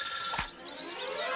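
A brief electronic telephone ring in a Pink Panther cartoon, with bright high tones, fairly loud and close, fading into a quieter background.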